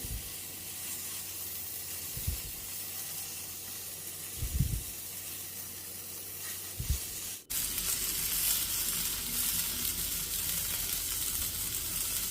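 Paneer cubes with capsicum and onion sizzle steadily as they roast in a hot pan, a continuous close frying hiss broken by a few soft thuds of turning pieces, then louder after a brief clunk.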